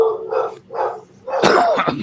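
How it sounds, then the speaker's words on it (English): A few sharp barks and yips from dogs sound close by indoors in short bursts, with a voice faintly behind them. "Apologize for the dogs."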